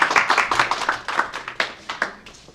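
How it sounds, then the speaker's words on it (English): Close, distinct hand claps at a small gathering, a handful of people clapping in a loose, uneven rhythm of separate sharp slaps for a couple of seconds. "You're getting more applause than I am."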